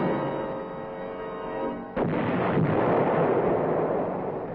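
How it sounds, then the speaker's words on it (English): Artillery fire and explosions from the Vietnam War, a sharp blast rising out of a dense, continuous roar of bombardment that stays loud and rumbling throughout, with no voices. "the enemy was pulverized by artillery."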